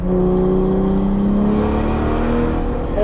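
Turbocharged BMW E36 pulling under full boost, a loud close interior engine roar rising smoothly in pitch throughout, with no talking.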